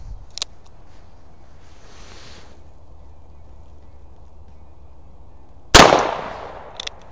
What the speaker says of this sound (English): We'll go ahead and shoot one more cylinder full here